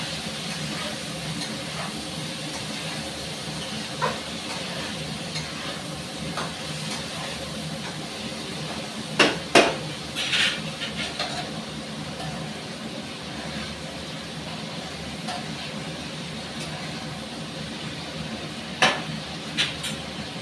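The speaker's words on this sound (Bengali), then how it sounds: "সেটা আমি খুব ভালো করে কষিয়ে নেব।" Young jackfruit with spices and salt sautés in a pan, giving a soft, steady sizzle and hiss over a long stretch, dotted with occasional faint taps and a few sharper clinks of a utensil.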